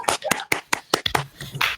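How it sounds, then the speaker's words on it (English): A few people clap in sparse, uneven bursts for Musa on a startup podcast, close and dry, roughly eight separate claps over a couple of seconds. "Round of applause for Musa."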